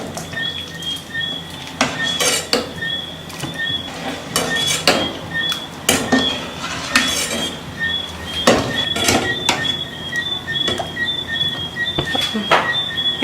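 A spoon stirs rice in a boiling pot for Caribbean stew chicken, giving repeated scraping and clinking knocks against the pot over a bubbling background, close and fairly loud without talk.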